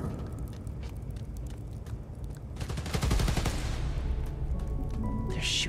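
Rapid bursts of gunfire in the Spider-Man: Miles Morales video game, a dense rattling barrage that builds midway and stays loud over a steady game soundscape, with no talk over it.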